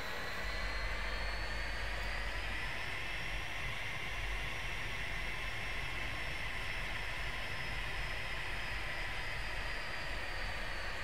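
Jet aircraft taxiing in the DCS flight simulator game, a steady close engine drone with a slowly rising and falling whine, unbroken and with no talk.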